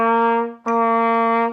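Solo trumpet plays two clean sustained notes, the first tongued with a crisp attack and the second slurred into it, close and unaccompanied.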